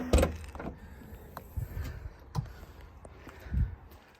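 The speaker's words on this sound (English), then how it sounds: "If we then open up the boot," Boot of a Tesla Model 3 Performance AWD being opened: a few scattered mechanical clunks and a latch thump, close by and fairly quiet, with brief soft motor or hinge sounds between them.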